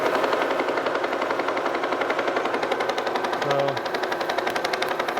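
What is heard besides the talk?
Kearney & Trecker 2H vertical milling head running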